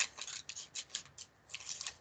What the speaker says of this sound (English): I'm turning the paper. I'm not really turning the scissors.